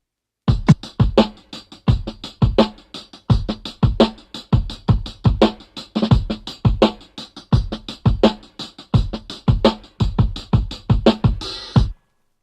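A dry, roomy drum break recorded to tape with only two mics, punchy kick and snare hits in a steady groove, close and loud, ending with a brief cymbal wash.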